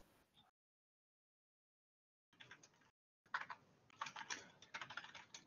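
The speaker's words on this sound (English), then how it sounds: "I was just typing because they're asking me." Quiet clicks from a computer keyboard during an online Overwatch match, as a short burst of typing breaks off into silence and then returns as a faster, denser run of keystrokes.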